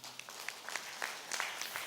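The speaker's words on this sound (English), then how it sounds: "Let us now give a loud applause, round of applause to our 24-25 President" Round of applause for an association president at an inauguration event, scattered distinct hand claps from a modest crowd, moderately distant and irregular.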